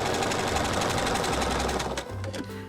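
A sewing machine stitches quilt binding in a fast, steady mechanical rattle, loud and close, then slows and stops near the end.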